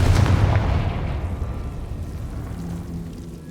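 A Confringo explosion spell cast in the game Hogwarts Legacy, a deep booming blast at the start that rolls off into a long, rumbling fading tail.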